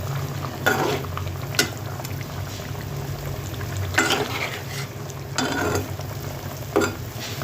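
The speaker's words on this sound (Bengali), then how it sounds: "এইবার চিকেনটাকে ঘেঁটে দেখা যাক" Chicken curry with potatoes stirred in a sizzling pan, a spoon scraping in several distinct strokes over a steady frying hiss, close and fairly loud, no talk.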